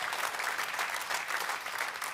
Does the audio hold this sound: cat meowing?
no